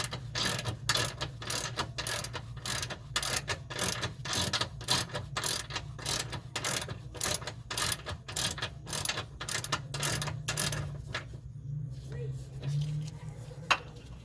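A 3/8 ratchet on a universal joint loosening a front lower control arm bolt on a Chrysler Town & Country minivan, giving rapid, close, repeated clicking bursts in a steady rhythm. The clicks stop near the end, leaving a quieter pause and a single knock.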